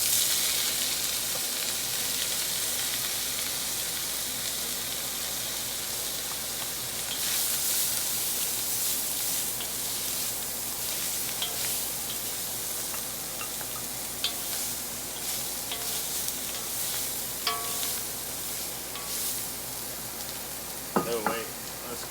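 Vegetables stir-frying over very high heat for an Asian-style stir fry, a steady broad sizzle running throughout with occasional louder crackles and pops near the end, no talking.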